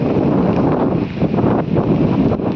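Wind blows steadily across a rooftop garden during rain, rushing around a guava tree in a continuous loud broadband roar with gusty swells and microphone buffeting throughout.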